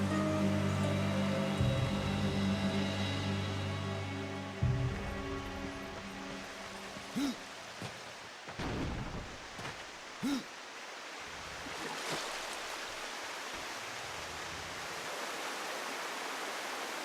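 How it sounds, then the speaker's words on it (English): Rushing water filling a chamber in the video game Darksiders 2, a steady broadband roar with a droning game tone early on and a few brief thuds mid-way, alone without talk. "And that will fill up the water."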